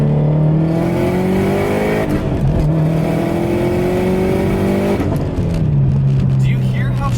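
A widebody Subaru STI with an external wastegate accelerates hard through short gears, loud and close, engine pitch climbing then dropping at each quick shift in a repeated rising pattern, with a person talking over it.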